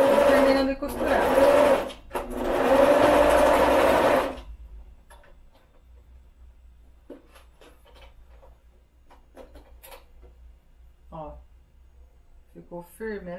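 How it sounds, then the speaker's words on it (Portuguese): Sewing machine stitching elastic onto a fabric face mask, a loud steady motor run for about four seconds with a brief pause, then quiet room with faint voice and small handling sounds. "E terminando de costurar."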